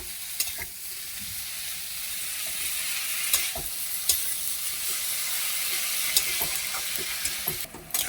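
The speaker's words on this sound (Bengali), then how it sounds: "তো আমি নাড়াচাড়া দেবো" Hog plum pickle cooking in a pan, a constant loud sizzle broken by occasional scraping stirs and light clicks of the spoon, close up with no voices.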